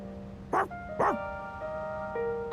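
Dog barking in the video game Persona 3 Reload, two sharp barks close together near the start of the clip over a soft game music bed, followed by quieter synthetic tones.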